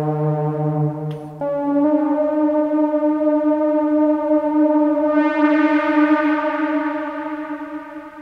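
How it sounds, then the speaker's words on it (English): A sustained tone from a Solar 42F synthesizer with rich harmonics, washed in long reverb tails and echo, shifting pitch and brightening midway, with a faint noisy hiss underneath. "Okay, so this is the reverb now."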